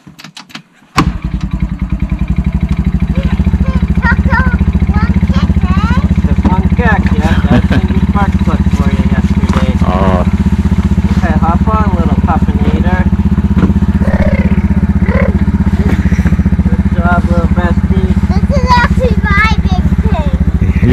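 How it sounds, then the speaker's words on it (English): An ATV engine starts with a sharp clatter and then runs steadily, a loud, close droning hum through a frosty outdoor setting, while people talk over it throughout. "Who's driving this nice blue ATV?"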